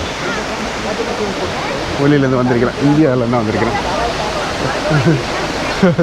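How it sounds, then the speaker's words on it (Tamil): Waterfall in Badulla, Sri Lanka, a steady broadband rush of falling water close by, with someone talking over it. "வாட்டர் ஃபால் இப்போ தான் தண்ணியோட செம்மையாக இருக்குது."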